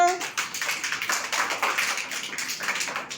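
A group of small children clapping their hands at a preschool activity, a quick uneven patter of many claps lasting a few seconds, fairly close, after a brief adult voice at the start.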